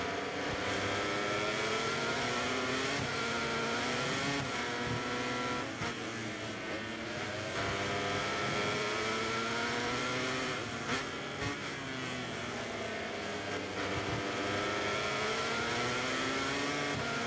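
A racing motorcycle in a MotoGP game howls under hard acceleration, its engine pitch climbing repeatedly through the gears, loud and continuous.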